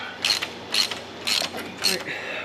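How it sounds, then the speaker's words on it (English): A ratchet tightens the cover bolts over the clutch and first reduction gear of a John Deere B tractor under restoration, making four quick bursts of close, bright metallic clicking separated by short pauses. "we'll go around here and evenly tighten the cover bolts"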